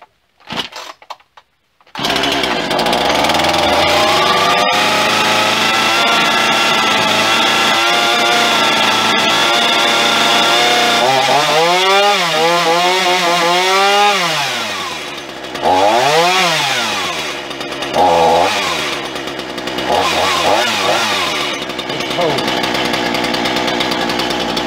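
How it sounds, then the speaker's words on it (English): A Black Max chainsaw engine with a newly replaced chain starts and runs loudly, its pitch rising and falling as the throttle is revved in repeated surges. "let's start this and see how the chain is."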